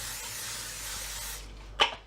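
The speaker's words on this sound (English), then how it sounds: "either your frying pan, or I'm using my wok, with your low calorie spray." Low-calorie cooking spray hisses steadily into a wok for about a second and a half, close and fairly loud, then ends with a short sharp burst.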